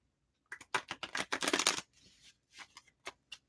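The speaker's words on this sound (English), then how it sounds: "And one more shuffle for you, Suze." A deck of tarot cards being shuffled by hand in a quiet room, a rapid burst of riffling flutters followed by a softer shuffle and a few separate light taps.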